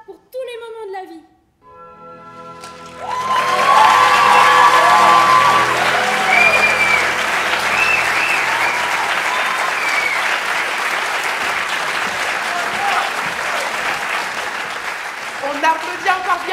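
Audience at a live stage evening applauding a performing group, a loud dense roar of clapping and crowd noise building after a brief quiet start and holding steady, with a little speech over it.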